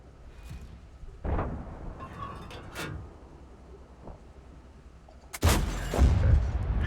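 Tank cannon shots in World of Tanks, a Schwarzpanzer 58 firing: two heavy booms, a sharp one early and a louder blast near the end followed by rumble, over low battle ambience.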